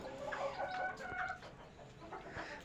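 Hens brooding on eggs in a rooftop coop cluck in short, repeated bursts, with a busy, slightly distant farmyard feel and no talking.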